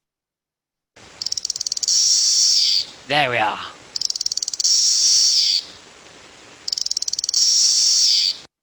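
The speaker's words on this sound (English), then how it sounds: "This is our friendly cicada." A cicada buzzes loudly and close in three long, pulsing bursts with short pauses between them, and a brief voice speaks in one of the gaps.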